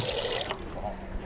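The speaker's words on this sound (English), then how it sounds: "wash my hands" Water running from a tap into a sink during handwashing in a home kitchen, a steady close hiss with some voice-like murmur over it.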